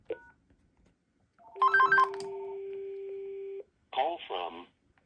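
A Panasonic call blocker handset rings with an electronic warbling tone, followed by a long steady tone that holds for a couple of seconds, then a synthesized voice begins speaking.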